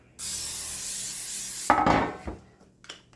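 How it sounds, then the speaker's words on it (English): A steady hiss of cooking spray onto a pan lasting about a second and a half, followed by a few soft rubbing and scraping sounds nearby. "So I'm going to spray the pan with some Pam or whatever you have"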